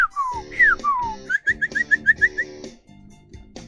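A man whistles alone in bird-like phrases: sliding falling notes, then a quick run of about eight bright chirping pips, close and clear, fading into soft room noise at the end.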